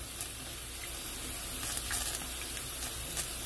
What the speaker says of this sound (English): so we're putting in the rice